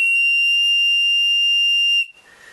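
A cheap plastic emergency whistle is blown in one long, loud, steady shrill blast lasting about two seconds, then cut off, leaving a faint breathy tail and room noise.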